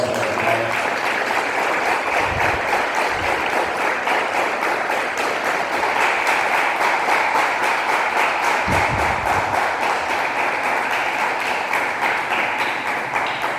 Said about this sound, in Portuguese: Se essa foi sua melhor salva de palmas, com certeza o Senhor recebeu lá nos altos céus